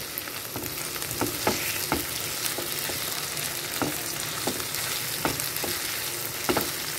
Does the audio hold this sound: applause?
no